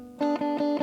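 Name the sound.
overdriven electric guitar distortion from playing louder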